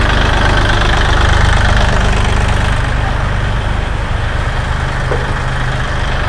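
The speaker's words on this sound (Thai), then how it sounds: "ไปดูการทำงานของเครื่องยนต์กันนะคะ" A used Kubota L3408DI tractor with a front blade and disc harrow idles with its diesel engine, a loud, steady, knocking rumble close by throughout with no talk.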